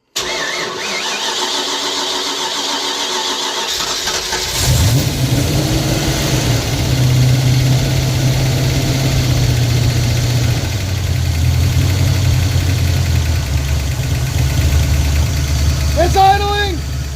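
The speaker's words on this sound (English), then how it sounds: "It's idling! It's idling! Yes! Whoa! That's an idle." An old car engine, first started in 26 years, cranks and catches, then settles into a loud, rough, steady idle close by, with excited voices shouting over it.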